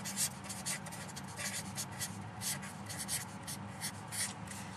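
Pen scratching steadily across paper while notes are written by hand, a close, continuous rhythm of short strokes with no speech.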